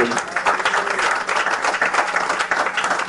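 Church congregation at a pastor's seminary service clapping and cheering for the Lord, a loud dense burst of applause with shouts and voices mixed in, continuous for a few seconds.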